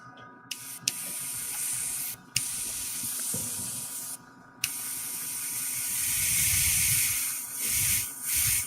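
An airbrush driven by a compressor and controlled through a MAC valve sprays in a steady, close hiss, with short pauses where the air cuts off and restarts with a click, plus faint mechanical rattling underneath.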